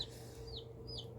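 Baby Rhode Island Red and Rustic Rock chicks peep softly in high, repeated chirps, a few rising calls standing out over a steady low background hum.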